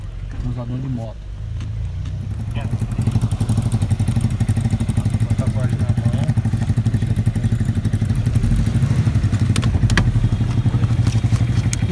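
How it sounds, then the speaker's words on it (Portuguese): A motorcycle engine runs steadily at close range during a police stop of suspected motorcycle thieves, a low rumbling idle with some clatter under shouted talk for the whole stretch. "Desliga a moto."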